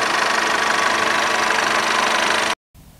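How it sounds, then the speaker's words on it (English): A 2-liter EcoBoost engine in a Ford Edge runs with a loud, dense, steady roar that holds evenly, then cuts off abruptly into near silence followed by faint background noise. "located under the hood, you have a 2-liter EcoBoost engine"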